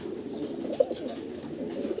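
Pigeons coo softly at a breeding farm, low throaty calls repeating over faint background noise, with a few light chirps and no talking.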